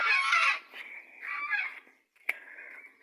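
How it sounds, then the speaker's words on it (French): Ducks being herded uphill call out in bursts of nasal honking quacks, loud and close at first, then a pause and a sharp single cry before the calls resume more steadily. "Là, je monte un petit peu les canards."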